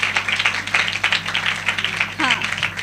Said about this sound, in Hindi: ओके, हम ताली बजाकर भैया का स्वागत करेंगे।